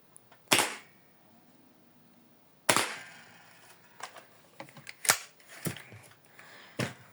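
Two sharp, loud cracks from a sawed-off shotgun firing shot ring out, followed by a series of smaller clicks and snaps from handling the weapon.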